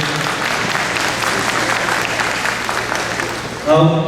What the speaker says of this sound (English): Everybody give a round of applause again.